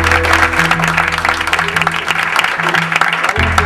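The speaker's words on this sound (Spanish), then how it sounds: "Un aplauso." Audience applause closing a conference talk on personal data protection on the Internet at a university seminar, a steady dense wash of clapping filling the room for several seconds, with some low tonal hum and murmur underneath.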